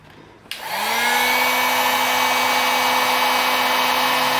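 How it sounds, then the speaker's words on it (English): A Harbor Freight heat gun switches on with a click and then roars steadily at its highest heat setting while shrinking tubing onto a terminal, a loud, close, unbroken whooshing hum with a faint tonal whine. "get out your heat gun"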